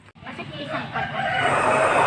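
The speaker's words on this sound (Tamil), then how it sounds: "அண்ணன் வீட்டில் பண்ணை வச்சுருக்காங்க கோழி பண்ணை பெரிய பண்ணை பாருங்கள்" Chickens at a country chicken farm cluck and cackle as a dense, rising clamor that grows louder and fuller toward the end, with voices mixed in.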